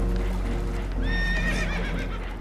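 Spooked horses in Red Dead Redemption 2 whinny loudly during a stormy boat scene, a shrill descending neigh rising over a heavy low rumble of water and hull, with clopping hooves beneath.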